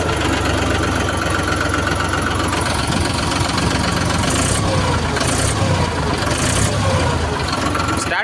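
A New Holland 3230 TX tractor diesel engine runs at idle, a loud, steady, close mechanical chugging that continues unbroken throughout.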